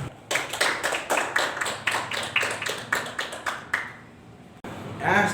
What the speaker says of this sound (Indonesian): Kita kasih dulu tepuk tangan untuk teman-teman kita.